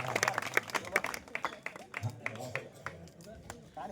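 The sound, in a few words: audience clapping loudly at a temple calendar launch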